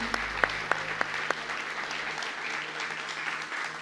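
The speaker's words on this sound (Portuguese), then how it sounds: "Salva de palmas para Jesus Cristo." A church congregation breaks into applause during a sermon, a broad sustained wash of many clapping hands with a few sharp, louder claps up front near the start.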